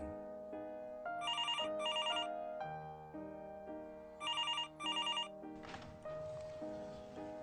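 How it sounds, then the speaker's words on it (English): A telephone rings in repeated double bursts over a background music score, two paired rings early and two more later, clear and fairly loud. "until later that evening when the phone rang."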